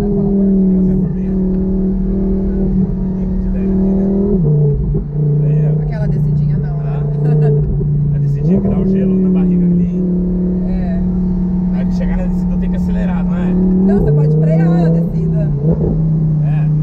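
Audi R8 engine droning loudly and steadily, pitch rising and falling with shifts as the car accelerates along a road, heard from inside with voices talking over it.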